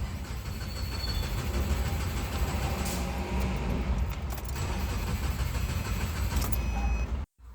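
A damaged Subaru engine cranks on a start attempt with a steady mechanical churning and rattling that continues for several seconds, then cuts off abruptly near the end.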